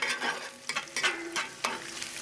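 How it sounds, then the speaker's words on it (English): Sausage gravy with a little sugar stirred in a frying pan, a spoon scraping in several distinct strokes over a low sizzle, close and fairly quiet with no talking. "stir this all in real good"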